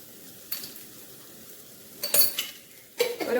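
Spices such as turmeric and coriander powder fry in a pan, with a soft constant sizzle under repeated sharp bursts of a spoon scraping and clinking against the metal as it stirs.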